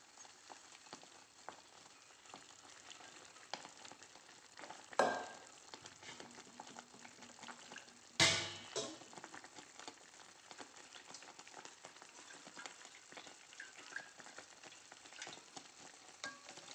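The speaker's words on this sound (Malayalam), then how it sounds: "ഇനി ഇതെല്ലാം കൂടി ഒന്ന് ഇളക്കി നമുക്ക് യോജിപ്പിച്ച് കൊടുക്കാം" Melted jaggery mixture stirred in a pan for banana payasam (pazham pradhaman), a soft continuous sizzle with scraping, and two louder clanks of the spoon against the pan.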